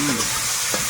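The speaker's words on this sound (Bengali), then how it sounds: "এবার চিংড়িগুলো দেবো।" Salted, turmeric-coated prawns go into a hot pan, producing a brief close burst of sizzling with a quick stir or scrape near the end.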